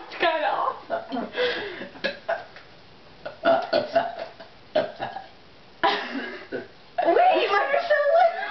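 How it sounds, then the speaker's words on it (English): Repeated burps from people in a burping contest, short gurgling bursts, some drawn out, mixed with laughter and chatter nearby. "I don't ever get to see you burping in my face."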